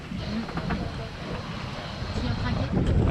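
Wind of about nine to ten knots blows across a sailboat sailing crosswind off the Mediterranean coast near Fréjus, a steady buffeting rush with water noise that swells toward the end, with someone talking.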